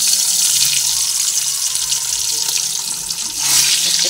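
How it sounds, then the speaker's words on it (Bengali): Pieces of Sankar fish (stingray) frying in hot oil, giving a loud, steady, close hiss that runs unbroken throughout and swells slightly near the end. "তেলটা গরম হয়ে গেছে, সেই সময় আমি এক এক করে মাছগুলোকে তেলের মধ্যে দিয়ে আমি ভেজে নিচ্ছি।"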